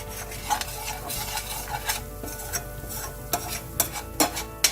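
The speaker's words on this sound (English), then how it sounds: "You want your ginger garlic paste to cook well" Ginger garlic paste cooking on low heat in a pan, stirred continuously with a utensil, giving a steady low sizzle broken by repeated scraping strokes and sharp clinks against the metal.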